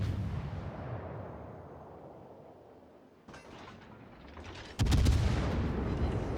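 American cruiser guns firing HE shells in the naval battle game World of Warships: a muffled broadband rumble, then two heavy booming salvos, the second louder and followed by a sustained roar, with no talking.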